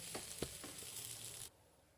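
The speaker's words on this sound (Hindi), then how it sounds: "ये दूध उबल रहा है हमारा, और मैंने ये एल्युमिनियम का भगोना लिया है" Milk boils in an aluminium pot with quiet bubbling and crackling and a few soft pops, then the sound cuts out abruptly near the end.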